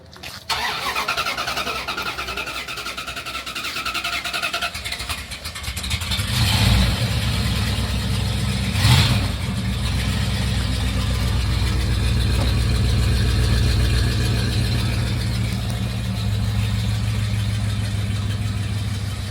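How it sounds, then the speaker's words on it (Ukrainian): An American muscle car engine starts with a brief crank and settles into a deep, steady rumbling idle, fairly close and continuous throughout. "Ну звук у него такие прям Американський маслкар."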